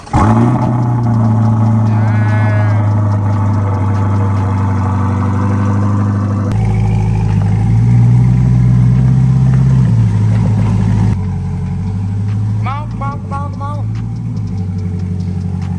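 A Chevrolet Corvette C8 idles and rumbles as it is driven into a garage, the engine steady and close with a few light revs. A person talks over it.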